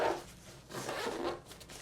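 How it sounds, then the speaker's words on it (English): A zipper being pulled closed around a compact tech pouch packed for travel, one continuous rasping zip of under two seconds, close up, with no speech over it. "Now we can zip up this tech pouch."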